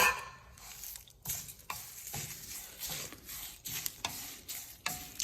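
Dry chillies, coriander seeds and cumin roast in a pan, giving faint crackling and sizzling broken by repeated scraping stirs at an irregular rhythm, with no voices.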